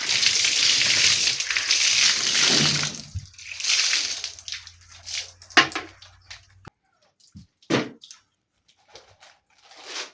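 Water mixed with surf detergent sloshes and splashes while a house floor is washed. A loud, continuous rush fills the first few seconds, then scattered separate splashes follow with quiet gaps between them.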